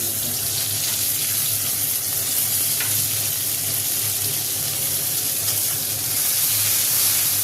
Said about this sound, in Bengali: টমেটোটা একটু ভাজা হবে, তারপরে মশলাগুলো দেবো।